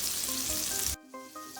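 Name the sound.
bacon and sausage frying in pan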